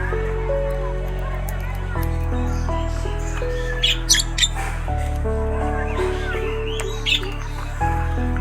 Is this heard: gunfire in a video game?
no